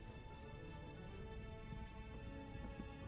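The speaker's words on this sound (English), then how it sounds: "It might be raining." Rain falling in the video game Vintage Story, a steady, soft patter of drops that continues evenly throughout at low level, with no voices.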